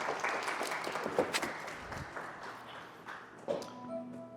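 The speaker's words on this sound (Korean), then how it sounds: "우리 박수로 격려합니다." A church congregation applauds to encourage its ordained leaders during a service, giving brief, uneven clapping with scattered sharp taps against a low room murmur.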